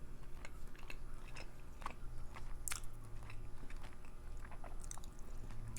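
Close, wet chewing and biting of Indian food during a mukbang, steady mouth sounds with a few sharper crunchy bites standing out, no talking over it.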